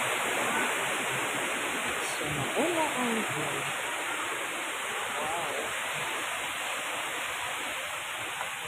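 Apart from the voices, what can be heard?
rushing water of Panas waterfall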